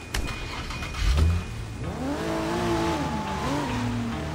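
A car drives in the video game Sleeping Dogs, with a brief thump and tire noise, then the engine revving up and down through rising and falling pitch over a steady background hum, no talk.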